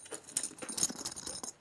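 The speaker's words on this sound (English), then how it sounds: "you got a lot of zipper jangle noise of these two zippers right here" Heavy YKK metal zippers on a camera backpack jangle in a quick run of light, bright metallic clinks and rattles, close up with no voices.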